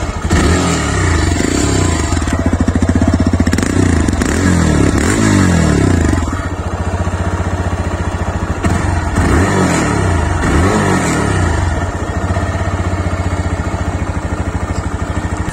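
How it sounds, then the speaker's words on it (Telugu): A TVS Raider 125 motorcycle idles close by after starting, its steady exhaust note thrumming, with a couple of throttle blips that rise and fall around the middle before it settles back to a loud, even idle. "సో ఒకసారి బండి స్టార్ట్ చేస్తా మీకు ఎగ్జాస్ట్ నోట్ వినిపిస్తుంది చూడండి ఒకసారి"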